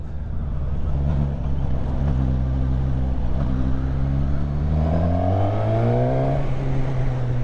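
A Suzuki 1000 Katana motorcycle engine of about 150 horsepower drones loudly and steadily up close. Its pitch climbs smoothly as it revs up near the end.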